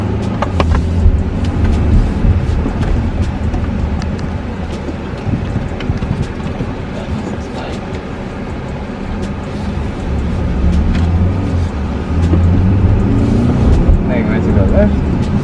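A 2021 BMW X3 xDrive20i drives on a road in Jamaica with a steady engine and road roar and some wind buffeting, heard from inside the cabin while people talk over it.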